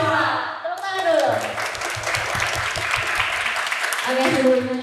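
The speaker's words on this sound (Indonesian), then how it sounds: "Tepuk tangan dulu." An audience applauding at a campus talk show, a dense burst of clapping that rises after a spoken introduction and continues with voices talking over it.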